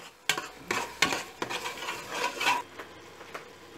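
Beaten yogurt mixed into beef biryani masala in a pot, heard as a series of uneven scraping and clinking spoon strokes over a faint sizzle, close and moderately quiet.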